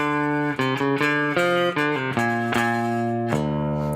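An electric guitar rings out an open, unmuted, sustained riff from a song, notes changing every half second or so and letting each one sound fully.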